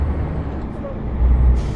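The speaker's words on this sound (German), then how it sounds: "Vom Sound her muss ich sagen, ist der LKW aber richtig gut, finde ich." A truck in the video game Euro Truck Simulator 2 idles with a low engine drone, then a sharp hiss of air brakes releasing near the end, loud and close.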